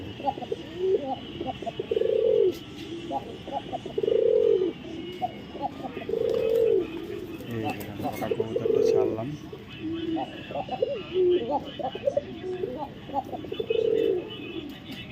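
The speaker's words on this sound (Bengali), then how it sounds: "এক জোড়া ককা কবুতর নটটা ডাকে কিন্তু" Kokka pigeons coo in repeated low, rolling calls at a steady rhythm, with a voice talking over them throughout.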